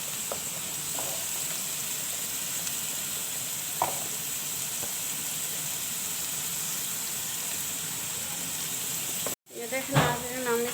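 Vegetables frying in a pan give a steady, even sizzle that hisses through the whole stretch, with a brief clatter of utensils near the end.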